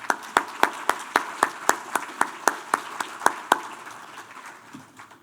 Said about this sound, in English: join me for just a quick round of applause for them